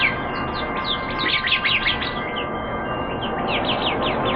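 Many birds chirp together in a dense, continuous chorus of quick, high twittering calls over a steady background hiss, close and fairly loud with no voices.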